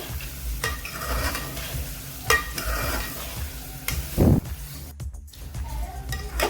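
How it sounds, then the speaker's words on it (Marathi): Banana pieces and semolina frying in ghee for prasad sheera, stirred with repeated scraping strokes and soft knocks over a gentle sizzle, close and moderately loud, with no talking. "केळं चांगलं तुपात भाजून निघतं"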